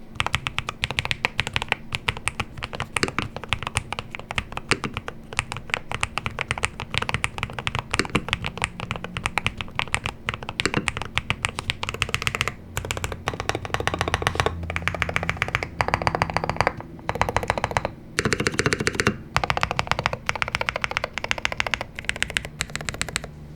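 Rapid, dense clicking and clacking of keys on a NuPhy WH80 gaming keyboard during a typing test, loud and close, continuous for most of the clip with a few brief pauses and bursts.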